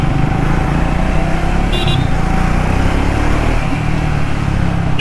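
A Triumph Speed 400 motorcycle runs at steady speed, its engine drone and road rumble continuous and fairly loud throughout, with a brief higher-pitched chirp midway.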